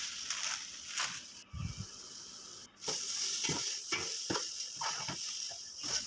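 Banana pieces and vermicelli are stirred together in a hot pan while making mango semiya payasam, giving a steady close sizzle broken by scraping strokes of the spoon.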